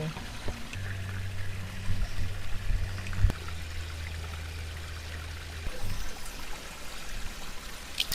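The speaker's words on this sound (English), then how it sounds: "I think the water runs all down there too." A stream in Australian bush runs with a soft, continuous trickle and burble under a low hum. Faint splashes come and go as the flow stays steady in the background.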